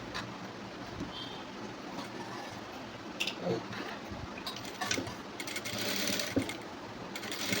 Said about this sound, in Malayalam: ലൈനിങ്ങിൻ്റെ സൈഡിൽ കൂടെ ഇങ്ങനെ സ്റ്റിച്ച് ചെയ്ത് വരണം